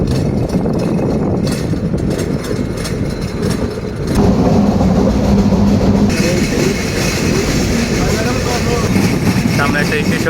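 A train rolls along the rails near Chirirbandar station in Bangladesh, a steady loud rumble and clatter that grows heavier partway through, with voices talking over it.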